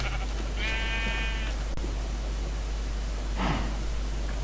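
A Minecraft sheep bleats twice, a wavering nasal cry early and a shorter one later, over a constant low hum with no talking.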